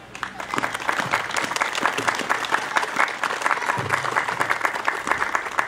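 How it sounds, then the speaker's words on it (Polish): Loud, dense applause from a crowd at a volunteer fire brigade's 100th anniversary ceremony, sustained clapping for several seconds with a few voices faintly mixed in. "Teraz, w tej chwili wielkie brawa."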